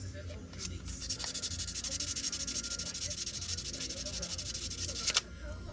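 Sandpaper rubs back and forth over an opaque gray material in quick, even strokes, a close and steady scratchy sanding with a brief tap near the end.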